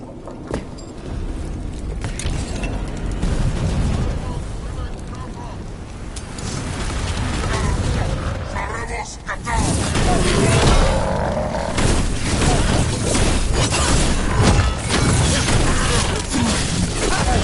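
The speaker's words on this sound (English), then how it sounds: "Cannon fire! Get clear!" Loud, continuous battle din with heavy rumbling booms and crashes of cannon fire, dense and unbroken throughout, in the video game Dragon Age: The Veilguard.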